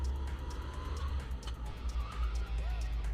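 During a karting race at Corbas, an engine drones with a brief tire squeal as the go-kart drifts through a corner, heard at moderate distance under low background noise.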